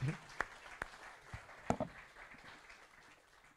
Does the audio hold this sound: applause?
yes